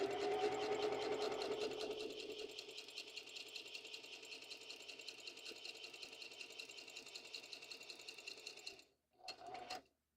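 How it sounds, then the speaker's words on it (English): Sewing machine running a steady straight stitch through a junk journal binding, a fast even motor whir with needle clatter that slows and stops near the end, then a brief final burst. "bring the needle down and we're just going to do a straight stitch"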